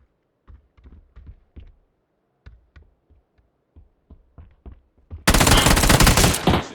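Gunfire in the battle royale game PUBG. Scattered single shots and short bursts stand apart over a quiet stretch, then give way to a sustained loud barrage of rapid fire near the end.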